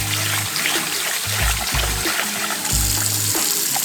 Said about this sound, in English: We're just going to rinse this out a few times.